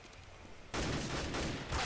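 Gunfire in the shooter game CS:GO breaks out suddenly as a dense, loud burst of shots that fills the second half, following a quieter stretch of game ambience.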